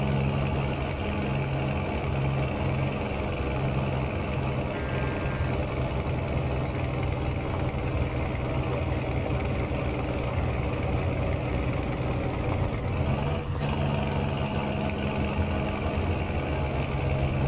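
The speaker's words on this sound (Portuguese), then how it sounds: "A carga aqui tá pesada pro Scaninha, hein." A Scania truck engine hauling a heavy tri-trailer tanker in a video game, heard as a continuous loud, low, steady drone with a brief shift in tone late on; no talking.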